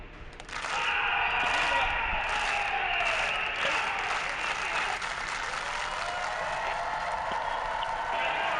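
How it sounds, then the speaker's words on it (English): Applause rises from a college tennis match crowd, building quickly into sustained clapping and cheering that carries on steadily, with indistinct voices mixed in. "give me that slow clap"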